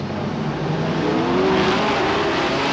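Race cars roar around the oval at Star Speedway in a loud, continuous engine drone that swells slightly as the pack passes, with no voices over it.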